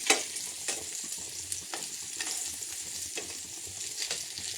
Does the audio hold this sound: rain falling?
no